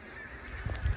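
Brief honking calls of ducks flying in large flocks near the Vistula river in the morning, rising toward the end of a short stretch of steady background noise.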